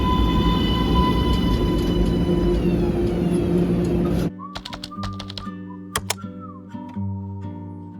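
A loud, steady train rumble with a high whine cuts off abruptly, followed by scattered clicks, clanks and faint tones of a station.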